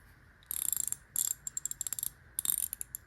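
A 3/8-inch reversible ratchet with a long-throw reverse switch clicks in quick close bursts, dense runs of sharp ticks broken by short pauses, alone and up close.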